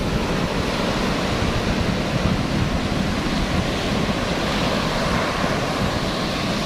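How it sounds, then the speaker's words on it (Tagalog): Continuous roar of large ocean surf, dense and steady throughout with no pauses, loud and close. "Laki ng alon, no?"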